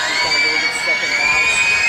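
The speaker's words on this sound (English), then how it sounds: "Student section is screaming." A student section screams and whoops at a girls varsity basketball game, Pendleton Heights vs Greenfield Central, a dense, loud crowd roar with high sustained shrieks running through the whole stretch.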